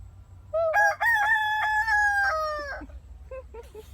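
A single rooster crows close by in one long, loud, slightly hoarse call that trails off, with faint background murmur.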